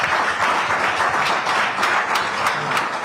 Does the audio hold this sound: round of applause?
yes